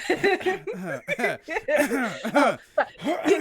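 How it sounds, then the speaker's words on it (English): A person coughs a few times and clears their throat, mixed with brief chuckling sounds, close to the microphone indoors. "I have to cough"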